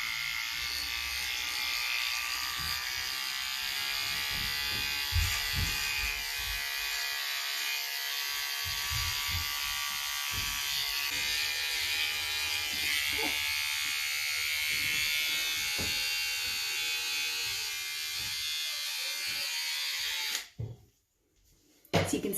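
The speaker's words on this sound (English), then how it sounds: "I'm going to use this little trimmer and look in my mirror." A small electric hair trimmer buzzes steadily and close while it trims the neck area of a pixie cut, running with a high, even whine before switching off near the end.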